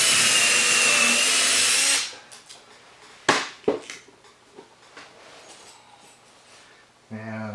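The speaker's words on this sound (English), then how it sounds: "Pre-drill a hole." A power drill runs loud and steady for about two seconds while pre-drilling a hole in a shop, then stops, followed by sharp handling clunks and quiet room noise before a brief motor sound returns.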